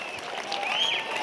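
A crowd applauds at a village jatre held in honour of Hanuman, with the milk okuli festivities at Jagadal. The clapping forms a moderate, continuous rustle, heard a little way off.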